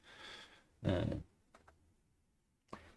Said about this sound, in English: I wasn't typing in the right window